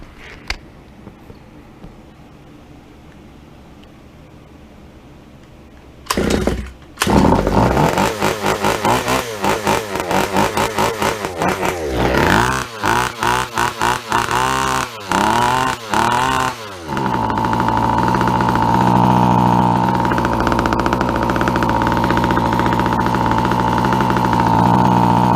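Car engine run on a test carburetor mounted on an Icepick 4 setup: silence, then a loud start with uneven sputtering revs and throttle blips settling into a steady, high, continuous idle drone close by.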